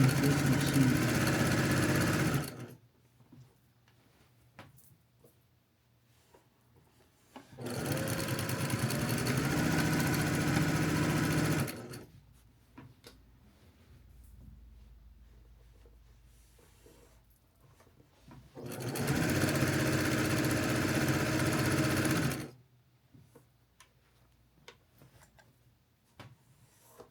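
A sewing machine stitches binding onto a quilt in three loud bursts of steady whirring, each a few seconds long, with quiet pauses between them and no talk.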